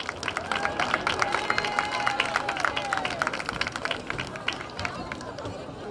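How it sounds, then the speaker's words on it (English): Crowd at a high school girls' soccer game in a stadium claps and cheers in a sustained burst of applause, with chatter and shouting voices mixed throughout. "Big round of applause."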